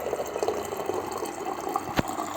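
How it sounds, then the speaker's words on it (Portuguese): Electrolux PE11X water purifier dispensing water with a stray side jet, a steady close splashing pour running throughout, with one sharp click or splash near the end. "quando você libera a saída de água dele, ele sai um outro jatinho de água"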